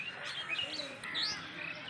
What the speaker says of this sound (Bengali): আর সকালবেলায় পাখি কি সুন্দর কিচিরমিচির কিচিরমিচির কিচিরমিচির করছে